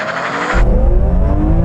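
A BMW M3 launching at the start of a drag race against an E92 M3, the engine note abruptly surging into a loud, rising roar as it accelerates hard, close and alone without talk.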